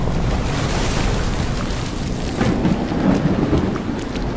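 Heavy rain pours steadily in a thunderstorm aboard an abandoned ship in the game Lazaret, with deep rumbling thunder rolling under the dense hiss throughout.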